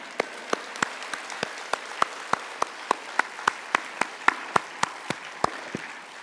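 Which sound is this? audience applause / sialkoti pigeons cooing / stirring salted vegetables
audience applause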